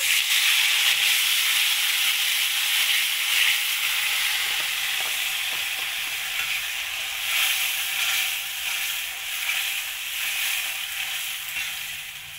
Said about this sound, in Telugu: మనం టమాటో ప్యూరీ వేసిద్దామా.